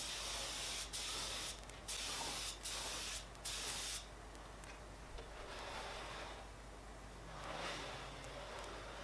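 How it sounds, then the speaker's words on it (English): A spray gun sends furniture lacquer onto a wooden box built from five different timbers, producing several short, loud hissing bursts that settle into a softer, steadier spray hiss. No one speaks. "And spraying him in with furniture lacquer."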